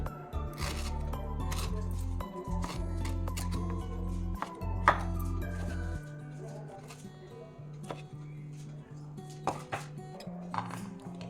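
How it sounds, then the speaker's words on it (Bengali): A knife chops raw jackfruit on a board, a run of close, sharp, irregular thuds with a low background hum that drops away partway through. "বাকিগুলো ঠিক ওইভাবে কাটতে হবে এইভাবে"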